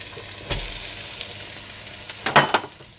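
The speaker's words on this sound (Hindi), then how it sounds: "थोड़ा सा भूनने के बाद आप इसमें डाल दें रेशा की हुई चिकन" Shredded chicken frying in a pan gives a soft, steady sizzle, broken by a couple of sharp utensil scrapes and clinks near the start and end, close up and without voices.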